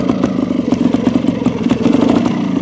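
A touring motorcycle engine runs steadily as the rider works the clutch to find the bite point, with a loud, close, lumpy low rumble and rapid irregular pulsing throughout.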